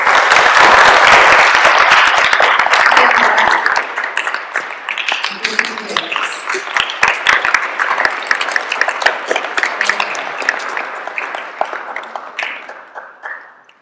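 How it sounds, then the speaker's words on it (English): An audience at a junior school interhouse public speaking event bursts into loud, full applause that starts strong, then thins out and slowly fades toward the end. "Please give them a round of applause."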